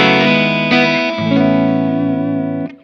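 An electric guitar played through a Strymon Iridium on a bright, sparkly Vox voicing, with a reverb pedal added. A few chords ring out loud and clear, each struck with a sharp attack and sustained with a reverberant tail.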